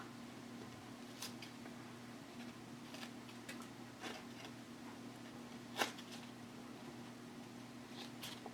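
Scissors snip around a paper craft kit piece in a series of faint, sharp clicks at irregular intervals, heard close over a steady low hum in an otherwise quiet room.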